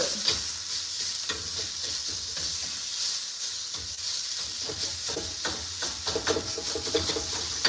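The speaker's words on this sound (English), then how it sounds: "I forgot to turn the temperature down on the skillet, and so like the chorizo started to burn just a tiny bit" Chorizo sizzles and fries in an overheated skillet that's starting to scorch it, a steady close crackling hiss with scattered pops and the clink of stirring throughout.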